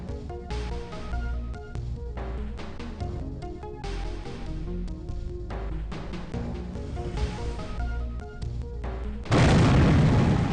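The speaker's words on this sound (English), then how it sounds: "You were warned. We are opening fire." Heavy weapons fire hits a shuttlecraft in the PC game Unreal: Return to Na Pali, ending in a loud, dense blast of noise that cuts over tonal game music.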